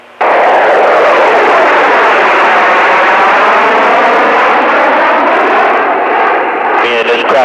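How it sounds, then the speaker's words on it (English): A loud, sustained roar of a jet aircraft passing close overhead, holding steady for several seconds with a brief shift near the end. "That's a damn jet."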